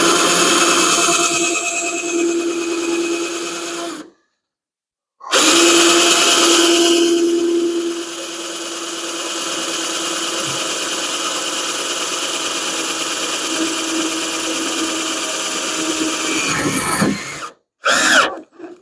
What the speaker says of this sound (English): Just want to drill a self-tapper in there.